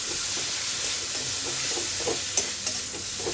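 Spices, chopped tomato and salt sautéing in a pan for a potato, pointed gourd and egg curry: a soft steady sizzle and hiss, with light stirring scrapes and a couple of sharper clinks near the end.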